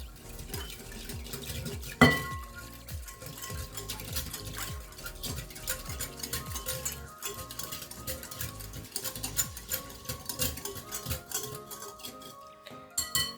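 A spoon mixes sugar into a dish with quick, rhythmic scraping clicks against the bowl, continuous and fairly quiet throughout, with no talking.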